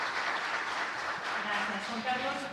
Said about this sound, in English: So we are going to give her a round of applause.